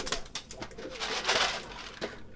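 Young racing pigeon cooing during a training session, soft repeated throaty coos close by with light rustling, no voices.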